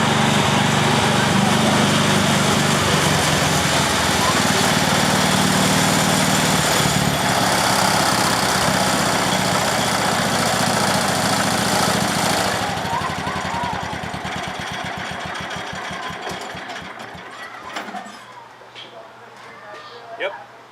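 A 1970s International Cub Cadet 1000 garden tractor engine runs loud and close, a rough steady chug that slows and dies away into quiet near the end.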